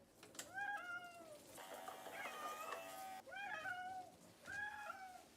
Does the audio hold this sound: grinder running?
no